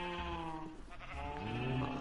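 Several sheep bleat in Minecraft, overlapping cries rising and falling in steady succession, close and fairly loud, with no talking.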